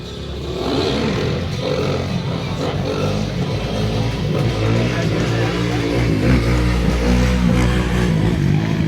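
A quad bike engine revving hard during a wheelie at a stunt display, a loud, close, rising roar that holds for several seconds with throttle surges, over crowd noise outdoors.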